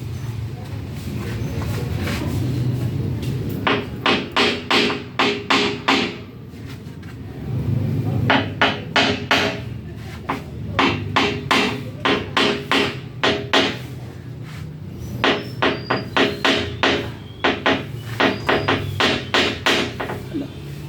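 Repeated sharp hammer taps on glass come in quick clusters of several strikes, separated by short pauses, close and fairly loud against a low background rumble.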